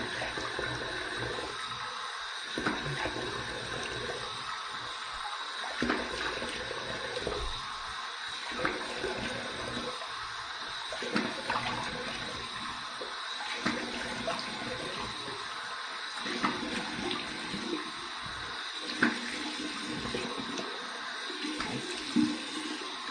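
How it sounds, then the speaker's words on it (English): Warm water runs steadily from a tap to rinse a copper adjustable double-edge safety razor, a continuous hiss lasting throughout with small splashy bumps, close and alone with no talking. "Here's my warm water rinse."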